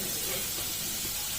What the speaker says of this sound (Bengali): আমার তেল গরম হয়ে গেছে। এরপর আমি রসুনটাকে কুচি কুচি করে রেখেছিলাম, তো এই রসুনটা এর মধ্যে দিয়ে দেবো।